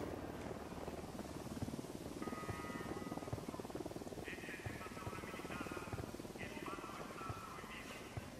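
A helicopter arrives in the tactical shooter Ghost Recon Wildlands, its rotor chop a steady low thrum that grows in the background while game radio chatter and tones play over it.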